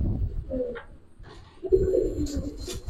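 Silver khaki pigeons coo indoors in soft, low, throaty bursts, a short call followed by a longer rolling coo, close by with faint background noise.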